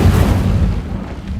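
Incendio fire spell cast in the Hogwarts Legacy video game, a loud, dense low booming burst that sustains for over a second, heavy and explosive in character, with no speech over it.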